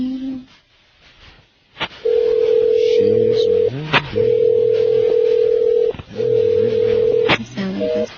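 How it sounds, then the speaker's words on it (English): Phone ringback tone on a call line, steady long tones in repeated bursts with short gaps, fairly loud and clear, with faint background noise between rings. "She's ringing."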